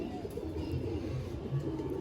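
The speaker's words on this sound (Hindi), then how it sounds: "ये नेवला ब्रीड के नाम से मशहूर है ये कबूतर।" Madrasi pigeons, also called the Nevla breed from Chennai, cooing softly in a low murmur amid quiet background noise.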